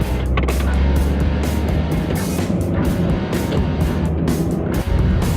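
A 2008 Honda City 1.5 VTEC car driving, with a loud, steady rush of engine, tyre and road noise filling the cabin and no break throughout.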